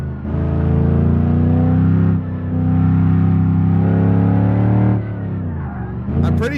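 A looping car engine from the racing game BeamNG.drive, a roughly 6.5-liter truck engine humming loud and steady at sustained revs, dropping briefly twice, with a small skid or tyre squeal near the end.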